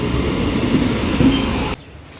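A train rumbles and rattles along the rails, a steady mechanical roar nearby that drops abruptly to a quieter hum near the end.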